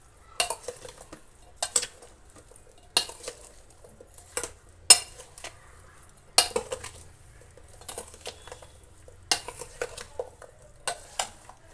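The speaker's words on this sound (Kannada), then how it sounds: "ಇದನ್ನು ಕೂಡ ಹಾಕಿ ಎಲ್ಲವೂ ಕೂಡ ಮಿಕ್ಸ್ ಮಾಡೋಣ" A spoon stirs and tosses a fruit and vegetable salad with cardamom peel in a bowl, making a series of about a dozen sharp, close clinks and scrapes in an irregular rhythm against a quiet background.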